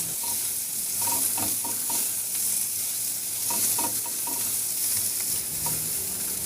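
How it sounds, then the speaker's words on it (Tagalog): Garlic and onion sauté in a hot pan for a chicken dish, giving a steady close sizzle with intermittent scraping and clinking as a utensil stirs them. "igisa ko na rin yung bawang"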